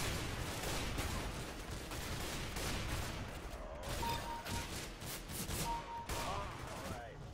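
Steady gunfire in the video game CS GO, dense overlapping shots throughout with brief electronic tones, while a player talks over it.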